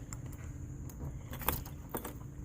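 Keys jangle faintly in a few short metallic clinks while someone tries to unlock the door of a 1994 Ford Ranger outdoors, with low vehicle rumble and background noise.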